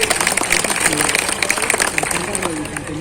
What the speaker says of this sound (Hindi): इनका भी ताली बजा के आप स्वागत कीजिए